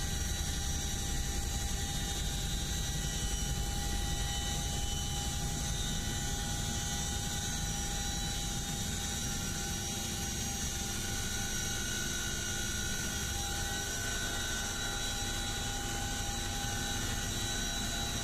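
A large Chinook twin-rotor military helicopter droning steadily in flight, a loud continuous engine whine and rotor roar with no talking.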